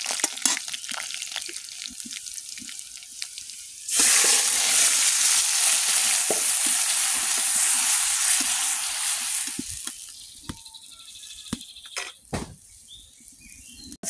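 Small fish frying in hot oil with browned onions, a loud sustained sizzle bursting in after a few seconds of quieter cooking noise, then easing off with scattered clinks and stirring near the end.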